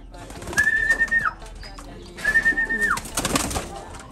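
Pigeons coo nearby in two drawn-out calls separated by a short pause, with faint rustling and quiet background noise around them.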